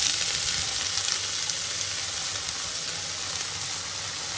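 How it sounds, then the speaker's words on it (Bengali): Potatoes with nigella seeds and a slit green chilli frying in oil in a wok, a loud, even sizzling hiss close by that eases slightly over a few seconds, with no speech. "বাস এবার কিছুক্ষণ আলুটাকে ফ্রাই করবো"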